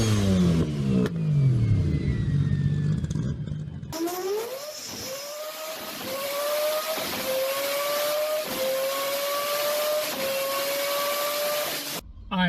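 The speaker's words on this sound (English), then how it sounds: "I do know that a 3 rotor can sound pretty damn good though." A three-rotor rotary engine car revs hard, its buzzing note climbing in pitch with each pull, preceded by a falling engine tone before a sudden cut to the louder, rising revs.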